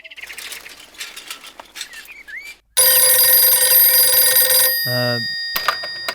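A phone rings loudly in a Hindi-dubbed South Indian action film scene, a sudden sustained electronic ringtone that cuts in after soft bird chirps and then breaks into shorter warbling bursts.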